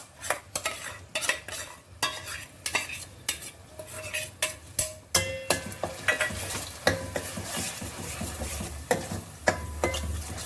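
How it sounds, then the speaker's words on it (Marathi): Malvani masala roasts in oil in a pan while a spoon stirs and scrapes against the metal in a steady run of clinks and taps over a soft sizzle, close and clear with no voices. "तेल सुटेपर्यंत हा मसाला आपल्याला भाजून घ्यायचा आहे"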